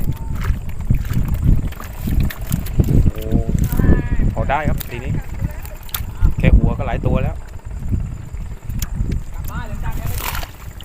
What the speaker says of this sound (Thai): ต้องขออภัยด้วยนะครับวันนี้ลมแรง